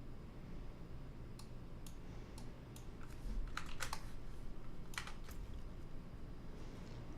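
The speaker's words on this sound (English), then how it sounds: "Guys, stop typing in chat" Light typing on a computer keyboard, a scatter of faint quick clicks over a low steady background hum, with a short cluster of sharper keystrokes toward the middle.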